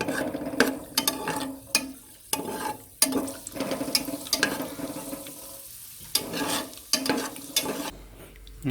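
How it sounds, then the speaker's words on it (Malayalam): Raisins and cashew nuts fry together in a pan of oil for a Malabar biryani, producing close sizzling with repeated scraping stirs in an uneven rhythm, no talking. "മുന്തിരിയും കൂടിയിട്ട് വറുക്കാം."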